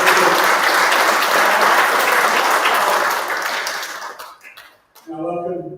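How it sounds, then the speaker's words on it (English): An audience applauds at a golf tournament opening ceremony, a dense, loud wash of clapping that gradually thins out before a voice begins speaking. "round of applause, please."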